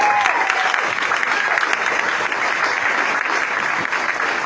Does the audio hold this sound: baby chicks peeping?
no